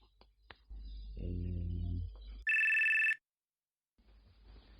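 A phone rings once in a single sustained electronic burst, loud and near, after a low hum and before a quiet pause, in a home setting.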